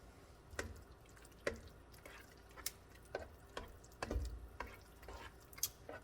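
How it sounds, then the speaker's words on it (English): A spoon or ladle stirs cheddar broccoli soup with shrimp and bacon in a pot over low heat, giving a string of soft, evenly spaced scraping and clinking strokes against the pot, with no talk. "And we're going to stir it around."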